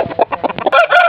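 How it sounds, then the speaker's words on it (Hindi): Aseel rooster clucking close up, a quick run of short choppy clucks that swells into louder drawn-out calls near the end, standing alone without talk. "बहुत प्यारा मुर्गा है हमारा"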